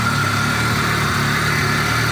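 A 2-litre VAZ car engine idles steadily after warm-up, a continuous close mid-pitched hum with faint mechanical ticking throughout, no voices.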